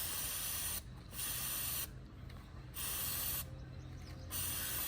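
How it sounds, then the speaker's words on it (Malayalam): Motul C1 chain cleaner sprayed onto a motorcycle chain in several long, loud hissing bursts with short pauses between them, close and without talk. "ഫസ്റ്റ് ഞാനിതാ മോട്ടിയോളിൻ്റെ C1ന്റെ ക്ലീനർ അടിച്ചു കൊടുക്കുകയാണ് കേട്ടോ."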